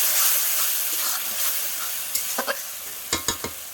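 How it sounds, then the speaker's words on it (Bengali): Spices being stir-fried in a pot for khichuri: a loud steamy hiss that fades, then several sharp clanking stirs of a utensil against the pot in quick succession; no voices. "দেখো বাদ বাকি মশলাগুলো দিয়ে কষে নেবো,"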